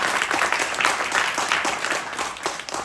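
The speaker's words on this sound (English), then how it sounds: "If we could give them a round of applause for their beautiful work." Audience applause for a car design team, a full clapping crowd holding steady and fairly loud throughout.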